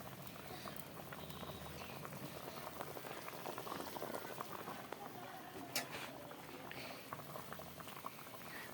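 Rohu fish curry boils in a pot, a steady, soft bubbling and popping with no break, heard close and fairly quiet.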